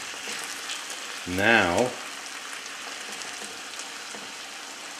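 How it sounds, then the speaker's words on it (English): Fish frying in a covered pan for an Italian-style dish gives a steady, soft sizzling hiss throughout, with a brief spoken word partway through. "we're cooking this with the lid on"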